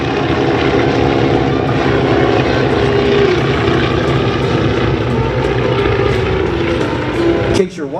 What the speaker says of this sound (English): The PT-17 Stearmans.